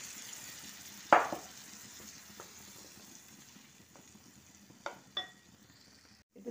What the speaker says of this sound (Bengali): এতে তেল দিয়েছি, শাকটা তৈরি করব। 3টে লঙ্কা আর জিরে দিলাম ফোড়ন।